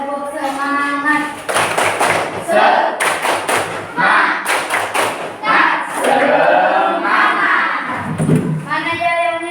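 Children in a classroom clap and chant together in a rhythmic group cheer, loud and close, with sharp repeated hand claps under their sung voices.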